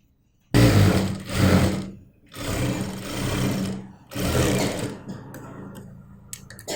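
Sewing machine stitching a straight seam down the side of an old cotton vest being made into shorts, running in three loud bursts separated by short pauses, then a quieter mechanical tail with faint clicks.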